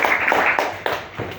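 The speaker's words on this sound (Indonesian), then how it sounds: "Tepuk tangannya mana untuk kelompok 1?" A short burst of applause from a classroom group for the students who presented, with a few close, uneven claps standing out over the rest.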